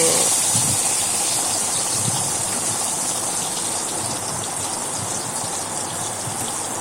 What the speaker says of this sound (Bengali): এখানে আমি বেগুনগুলাকে উল্টিয়ে দিচ্ছি একবার উল্টানোর পরে আরেকবার উল্টানো হয়ে যায় তো